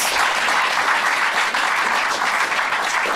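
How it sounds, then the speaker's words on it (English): Dense, loud applause from an audience at a sports interview event with Pride Rugby guests, steady and continuous throughout with no breaks. "Give yourselves a round of applause, please."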